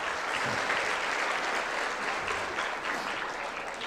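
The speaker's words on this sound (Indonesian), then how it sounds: "Itu tepuk tangan lah." A seated audience at a public lecture by Indonesia's finance minister breaks into steady, sustained applause, a dense wash of many hands clapping that holds evenly throughout.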